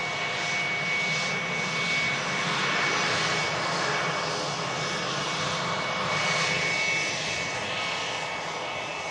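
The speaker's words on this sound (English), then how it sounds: "That is some high level executive jet right there." An executive jet with American registration, its engines giving a steady, loud roar that swells and fades slightly over nine seconds as it passes during plane spotting.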